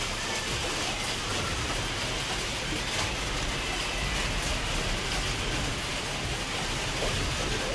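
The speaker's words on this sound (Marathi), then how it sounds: "सध्या खूप आभाळ येतोय आणि पाऊस पडतोय." Rain falls steadily outside a home gallery on a cloudy day, a dense continuous hiss that stays even throughout, with no distinct drops or voices standing out.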